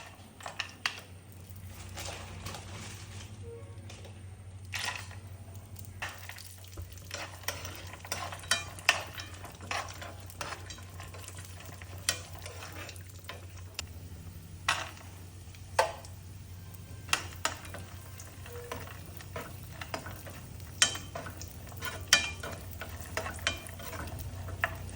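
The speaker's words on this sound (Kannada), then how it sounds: "ಒಂದು ಪ್ಯಾನಿಗೆ ಸ್ವಲ್ಪ ಗೀ ಹಾಕಿ ಕ್ಯಾಶ್ಯೂವನ್ನು ಹಾಕಿ ಅದು ಗೋಲ್ಡನ್ ಬ್ರೌನ್ ಬರುವ ತನಕ ಸ್ವಲ್ಪ ಫ್ರೈ ಮಾಡಿ ಅದನ್ನು" Cashews and raisins fry in ghee in a pan, a quiet, steady sizzle with scattered light ticks and occasional stirring clinks, close up with no talking.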